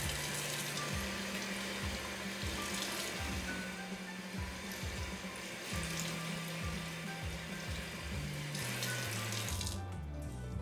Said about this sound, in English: you're gonna go ahead and rinse your hands